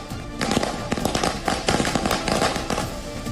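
Firecrackers set off in the open during Diwali celebrations in Delhi, a dense, continuous crackle of overlapping sharp bangs and pops with no pauses, loud and close throughout.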